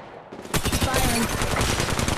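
Sustained automatic gunfire in the mobile shooter Apex Legends Mobile breaks out after a brief quiet moment and continues as a dense, loud stream of rapid shots to the end.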